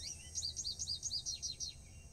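An American goldfinch call from the Nancy Drew game Ghost Dogs of Moon Lake: a quick run of about eight bright, high chirps in a bouncy rhythm, clear and alone over a faint low hum.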